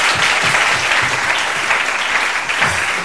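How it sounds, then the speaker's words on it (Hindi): Group applause at a gathering, dense continuous clapping from many people, loud and even with no pauses, faint voices underneath. "इनके लिए तालियां बहुत सारी।"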